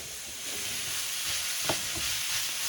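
Bami goreng stir-fry in hot oil, stirred continuously in a pan so it won't stick, producing a loud, steady sizzle and hiss with a faint scrape near the middle.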